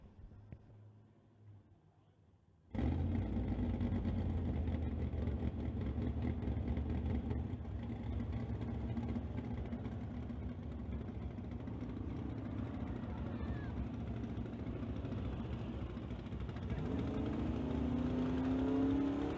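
A 1988 Mustang drag car from Surrey, BC, pre-staging in the lane at a drag strip: after a quiet opening, a loud engine rumble starts suddenly at about three seconds and holds steady, rising in pitch near the end.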